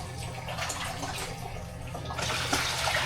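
Water pours steadily into a container at home, a continuous close splashing rush that grows slightly brighter and louder toward the end, with no talking.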